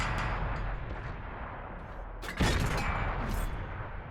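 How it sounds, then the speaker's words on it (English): A tank cannon fires in World of Tanks gameplay, a sharp loud boom at the midpoint over a rumbling background of engine and battle noise, followed by fainter distant shots. "I'm able to get 2 shots in on that KV-1"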